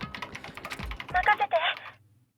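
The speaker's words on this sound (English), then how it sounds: "She began typing." Quick bursts of keystrokes on a computer keyboard in the Danganronpa video game, a close, busy patter lasting about two seconds before stopping abruptly.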